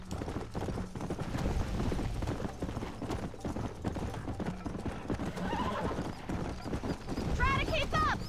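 Rapid hoofbeats of a galloping horse in a Red Dead video game race pound steadily throughout, with a neigh near the end, under someone talking and game background sound.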